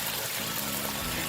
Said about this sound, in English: I'm now adding another 50 ml of water to help in the cooking.